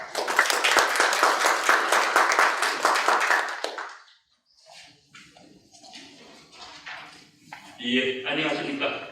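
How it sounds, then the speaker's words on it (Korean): Applause and clapping from an audience at the opening ceremony of an academic conference in a hall, loud and dense for about four seconds, then fading into scattered claps and murmurs before a brief swell returns. "큰 박수로 모시겠습니다."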